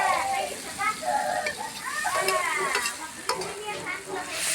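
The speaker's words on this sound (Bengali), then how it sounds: "হালকা করে ভেজে নিলাম।" Food lightly fries in a pan at an outdoor picnic, a soft sizzle with stirring clatter under nearby talking voices and children in the background.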